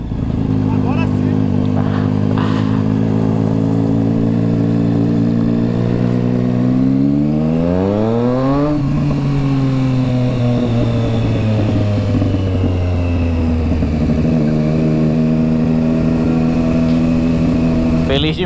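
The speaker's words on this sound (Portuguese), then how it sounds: "uma moto 600 com esse ronco assim, 3 ou 4 cilindros" A Triumph Street Triple 675 motorcycle engine holds a steady high idle, then revs up and falls back with a rising and falling whine, loud and close, continuing to run hard to the end.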